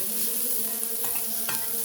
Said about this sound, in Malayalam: ഇതുപോലെ സവാള വറുത്തെടുക്കുക.